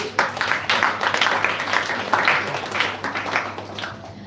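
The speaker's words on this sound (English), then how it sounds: "Let's give her a round of applause." Audience applause at a birthday celebration during a devotional gathering, moderate and fairly sparse claps with soft swells, a low steady hum underneath.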